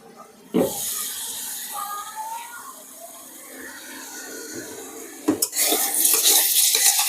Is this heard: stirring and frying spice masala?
yes